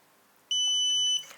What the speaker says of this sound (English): until you hear long beep, it was turned off